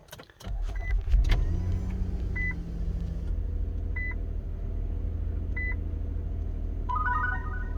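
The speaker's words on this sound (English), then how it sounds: "we'll turn the car on and make sure that the camera turns on" A 2019 Infiniti QX60 starts up with a loud engine crank and settles into a steady idle, while several short electronic chimes sound at intervals from the cabin.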